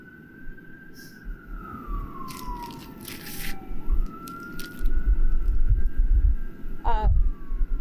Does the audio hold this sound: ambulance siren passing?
yes